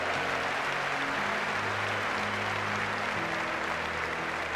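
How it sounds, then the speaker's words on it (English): Audience applause at a Les Brown motivational talk, a dense continuous clapping that fills the room at steady loudness throughout. "Give her a round of applause"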